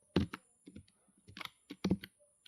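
Keys clack on a computer keyboard as HTML code is typed, in short uneven bursts of a few close, crisp taps each, separated by brief pauses.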